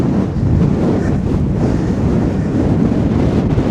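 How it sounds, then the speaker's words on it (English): Wind buffets the microphone on an outdoor countryside walk, a loud continuous low rumble that roars without pause and drowns out everything else. "I'm not sure on this sound whether it's going to be any good or not because of this wind now"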